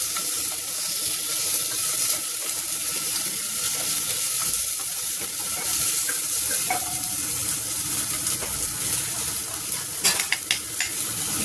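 Onion, ginger and green chili sizzle and fry in a pan over low gas, a steady close crackle with occasional stirring scrapes and clinks, no voices.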